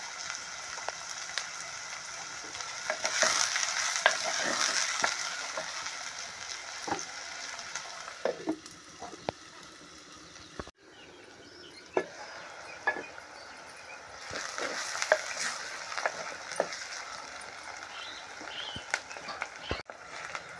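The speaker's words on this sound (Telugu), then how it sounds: "ఉల్లిపాయలు వేగిపోయాయండి" Chopped onions with a pinch of salt frying in a pan for an onion pakodi curry, a steady soft sizzle with occasional clinks and scrapes of stirring throughout.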